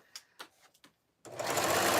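Sewing machine stitching fabric strips for a rag rug, a few short separate bursts first, then a steady continuous whir running close and loud to the end.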